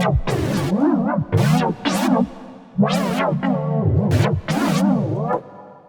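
D minor chords on a MiniFreak V synthesizer with LFO shaping, chorus and reverb ring out in choppy, pulsing bursts, each phrase trailing off into a reverberant wash, loud and upfront with no voices.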